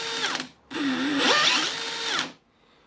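A Makita DDF486 cordless drill runs in drilling mode in two bursts, a close, loud motor whine that spins up, stops briefly, then revs again with shifting pitch before cutting off.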